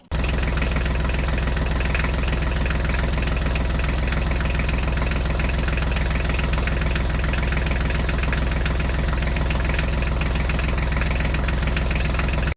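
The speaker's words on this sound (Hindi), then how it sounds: "तो देखो बच्चों हमारी जेसीबी तो इस गड्ढे को मिट्टी से भर रही है।" A DIY mini tractor and toy JCB run their small engines while filling a pit with soil, giving a loud, constant idling drone with a faint knocking pulse that holds steady from start to finish.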